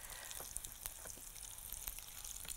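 Pine nuts fry in ghee with a soft, continuous crackling sizzle, dotted with faint stirring taps, fairly quiet and close.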